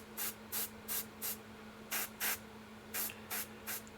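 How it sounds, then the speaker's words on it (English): Black spray paint hisses from an aerosol can onto a sculpture in short, even bursts, about ten close sprays with brief pauses between them over a faint low hum. "Like I said, the black should cover up pretty good. So if you overspray a little bit, no biggie for now."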